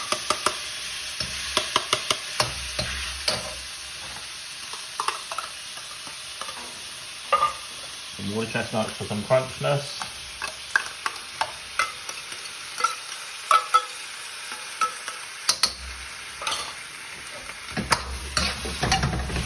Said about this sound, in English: Just let that sizzle up a bit.